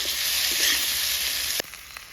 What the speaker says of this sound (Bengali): মশলার সঙ্গে আলুটাকে কিছুক্ষণ ভাজিয়ে নেব।